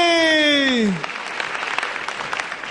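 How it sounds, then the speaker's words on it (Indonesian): An audience applauds a comedian at a stand-up comedy grand final, a loose patter of clapping that follows a falling drawn-out voice tone, moderately loud and continuing steadily to the end. "Beri tepuk tangan untuk Yono Bakri."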